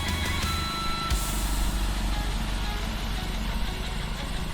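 A 1952 Windolph Chain Tred tracked walk-behind tractor runs with a steady, rough mid-pitched engine drone that stays constant and fairly close, with someone speaking over it.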